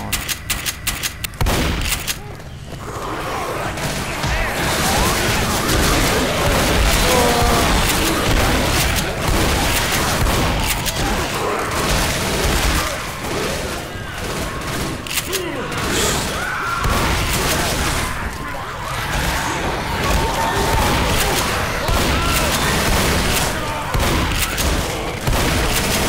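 Loud, nearly continuous gunfire and explosive booms in a Left 4 Dead firefight, a dense wall of shots with brief gaps and little letup.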